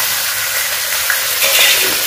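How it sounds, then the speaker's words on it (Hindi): Meat (gosht) frying in a pan with already fried onions, a steady, dense sizzle with faint stirring scrapes toward the end, close and continuous with no voices. "गोश्त ऐड करके फिर फ्राई कर"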